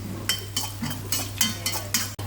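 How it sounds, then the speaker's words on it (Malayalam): Fried quail gets stirred into a masala gravy in a clay pot, a series of regular scraping strokes about twice a second, close and moderately loud over a low steady hum, no voices. "ഇനി നമ്മുടെ ഗ്രേവിക്കകത്തോട്ട് മിക്സ് ചെയ്യുക അല്ലേ?"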